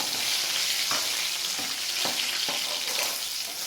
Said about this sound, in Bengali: দেখুন কত সুন্দর ভাজা হয়ে গেল খুব সুন্দর ফ্রাই হয়ে গেছে